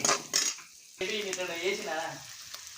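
Turmeric and chopped green chillies are stirred in a pan with a few quick metallic scrapes and clatters, then a voice talks over a faint sizzle.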